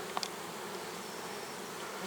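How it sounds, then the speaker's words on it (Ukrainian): Honeybees buzz nearby at an apiary in a soft continuous drone, with a couple of individual bees passing close by at the start and end. "бджола літає, бджола працює"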